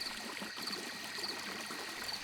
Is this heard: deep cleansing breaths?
no